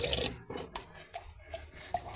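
Water drains and drips from freshly washed fern roots in a kitchen, scattered close trickles and individual drops falling at an irregular rhythm, fairly quiet.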